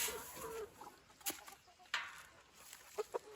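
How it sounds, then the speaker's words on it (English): Layer and composting chickens give faint, scattered clucks and short squawks on a farm at feeding time, with quiet rustling between them. "And then we'll feed these composting chickens."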